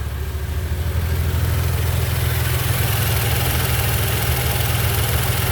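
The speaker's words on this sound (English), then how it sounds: "I did a video on the ticking noise that these engines make" Another 2016 Maserati Ghibli S idling, its engine making a characteristic ticking noise: an even, close, continuous low drone with faint rapid ticks, swelling slightly in the first second and then holding steady.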